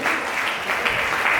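A congregation at a church service claps together in a brief, continuous round of applause, many hands at once, fairly loud and steady with slight swells.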